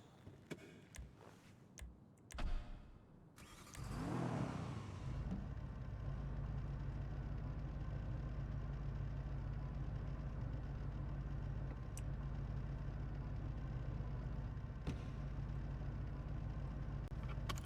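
A car engine idles in the GTA NoPixel roleplay game, a steady low hum that starts after a few brief clicks and thumps and runs evenly to the end, with no talk.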